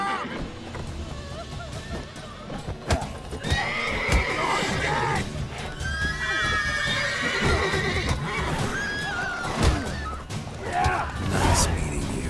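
Horses whinny and neigh repeatedly with clopping hooves in The Witcher 3 video game, amid game sound effects and voices.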